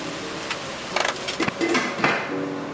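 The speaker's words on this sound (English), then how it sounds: "put a lid on top of the frying pan." A few metallic clanks and clinks of a lid being set onto a frying pan of teriyaki stir-fry, short bursts over a steady background hiss.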